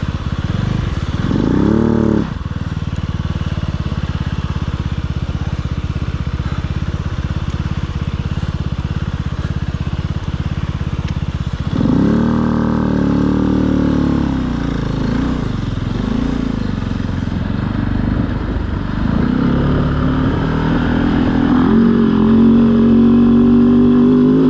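Kove 450 Rally motorcycle riding the Little Sahara sand dunes in Utah, its engine droning steadily and loud, with rising and falling revs and bursts of acceleration through the second half.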